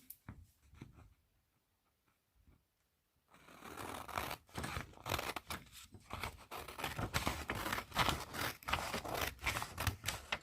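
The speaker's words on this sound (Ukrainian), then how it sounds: "Зробивши розмітку всіх ліній, ми відрізаємо зайву частинку." Scissors trim off excess material for a plain-weave craft: a quiet stretch, then a run of rapid, close, crisp snips and scraping cuts that continue steadily to the end, with no one speaking.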